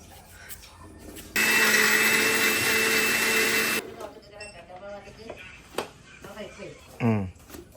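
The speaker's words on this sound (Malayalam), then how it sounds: "ഇത് നമുക്ക് മിക്സിയിലിട്ട് അരക്കണം." An electric mixer grinder runs at full speed on onions for chutney, a loud, steady whine lasting under three seconds, then stops as people talk nearby.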